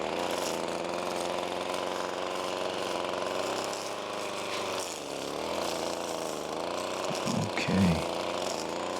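A SCAG walk-behind lawn mower drones steadily and loudly close by while trimming grass, its engine note dipping briefly, then roughening near the end.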